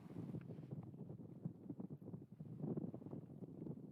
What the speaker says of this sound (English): I knew it would be a little bit windy